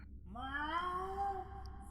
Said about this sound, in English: there's like this thing that may or may not be a cat